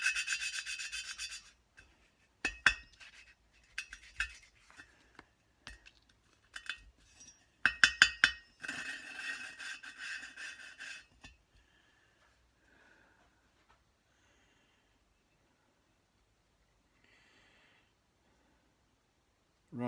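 A valve is lapped into a BSA Fury SS cylinder head with coarse grinding paste, producing close, irregular bursts of gritty rubbing and rasping. The strokes come in short clusters, then the clip falls almost silent.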